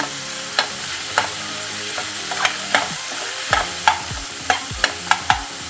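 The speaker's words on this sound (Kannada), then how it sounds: "ಆಮೇಲೆ ಸ್ವಲ್ಪ ಗಸಗಸೆನೂ ಹಾಕ್ಕೊಂಡು ಫ್ರೈ ಮಾಡ್ಕೊಳ್ರಿ." Chillies and poppy seeds fry in a pan as a tempering for holige saaru. A gentle sizzle runs underneath while a spatula makes regular scraping strokes against the pan, close and alone, with no speech.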